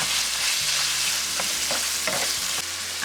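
Lean ground beef and garlic fry in a skillet with a loud, steady hiss and crackle, stirred now and then, close up with no voices.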